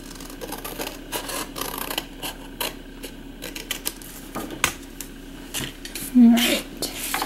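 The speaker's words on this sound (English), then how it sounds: "I'm just going to trim off this extra purple that I don't need anymore." Trimming off excess purple cardstock for a clear-embossed card on black cardstock: small scattered snips, taps and scraping clicks near at hand, fairly quiet, with a brief louder scrape near the end.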